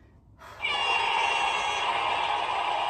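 A loud, sustained buzzer sounds abruptly during a break in a full-body HIIT cardio workout, holding steady and unbroken after a quiet start.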